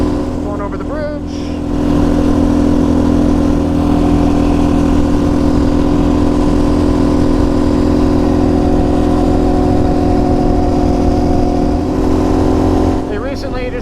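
Raptor 700 ATV engine running steadily while riding over a bridge, a loud continuous drone with some sputtering, rising after the first couple of seconds and holding throughout.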